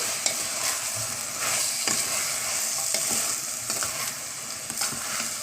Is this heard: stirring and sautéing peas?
yes